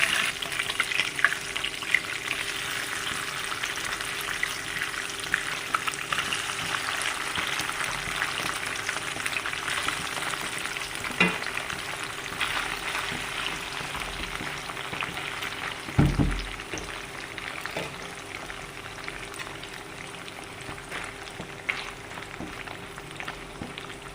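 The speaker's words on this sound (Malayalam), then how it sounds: "ഒന്നര കിലോ ബീഫ് വറുത്തെടുത്തത് ഒത്തിരി ശ്രമകരമാണ്" Beef, about one and a half kilograms, fries hard in oil for a meat pickle, giving a steady loud sizzle and crackle throughout, with occasional scraping stirs and a single clunk partway through.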